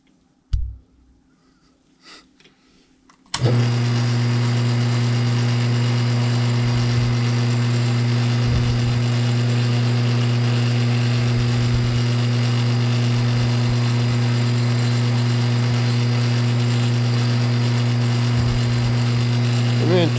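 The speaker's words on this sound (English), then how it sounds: "The next thing I'm going to do is take a center drill on my drill chuck" A center drill held in a drill chuck bores a hole. A few faint clicks come first, then a loud, steady machine hum with strong tonal whine starts abruptly and runs unbroken for the rest of the clip.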